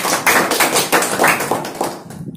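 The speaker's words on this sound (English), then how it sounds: "So please give a round of applause for Mr." Applause for a speaker at the start of a class talk, a sparse scattering of sharp, separate handclaps from a small group, uneven in rhythm and close by.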